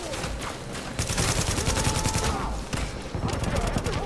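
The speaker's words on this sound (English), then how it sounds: "he's shooting at me. He's trying to shoot at me." Enemy gunfire in the video game The Division rattles in fast, sustained bursts close by, briefly pausing before resuming, with a voice talking under the shots.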